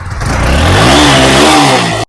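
A TVS Apache RTR 200 motorcycle engine revs up nearby, its pitch climbing then holding loud for a moment before cutting off abruptly.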